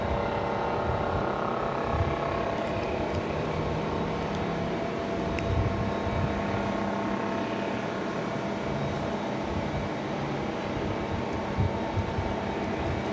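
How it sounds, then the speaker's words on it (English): An Embraer E190 or E195 airliner landing at Raleigh-Durham International gives a steady, broad engine roar and rumble that holds constant over several seconds at a moderate distance, with no voices. "So Moxie coming in that E190 or E195"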